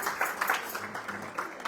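Church congregation clapping hands, a scattered ripple of claps from many people that is brief and fairly quiet, mixed with faint voices.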